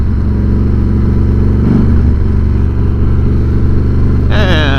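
A Harley-Davidson Fat Boy motorcycle engine while riding, a steady deep rumbling idle-to-cruise drone, close and loud, with a brief rev near the end.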